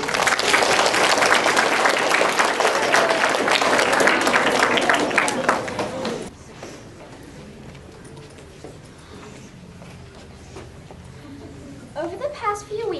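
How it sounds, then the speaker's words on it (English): A school audience at an Earth Day environment show claps loudly for about six seconds, then the applause drops away to quiet room noise and a voice begins speaking. "Please give them your respect and a nice round of applause to begin."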